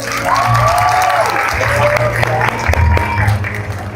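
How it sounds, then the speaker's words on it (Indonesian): Audience applause at an Indonesian public event, a dense crowd clapping throughout with a steady wash of sound, while a voice and music-like tones run underneath. "Boleh tepuk tangan lagi teman-teman, oke?"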